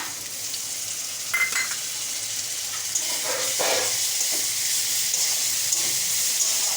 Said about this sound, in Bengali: দিয়ে একটু ভালো করে ভেজে নেব আদা রসুনটা পেঁয়াজের সাথে।